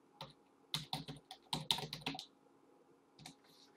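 Quiet bursts of computer keyboard typing while a name is entered in Maya animation software, quick clustered keystrokes with short pauses, then a couple of final taps.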